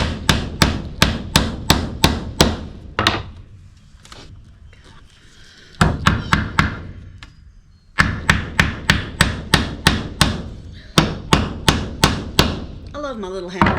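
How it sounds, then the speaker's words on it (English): A small hammer striking pallet wood while building a cabin porch: quick bursts of sharp ringing blows in steady rhythm, close and loud, separated by short pauses with quieter handling sounds. "love my little hammer"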